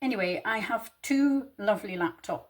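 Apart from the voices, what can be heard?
None of the usual background noises is heard.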